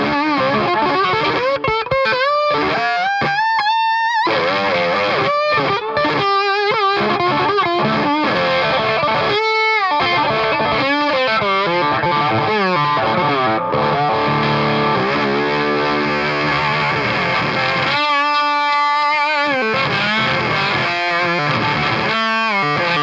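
Electric guitar runs through a Reeves Electro fuzz pedal with the fuzz fully up, giving loud, saturated overdrive on bending single notes, chords and swelling sustained tones, heard alone and without pause.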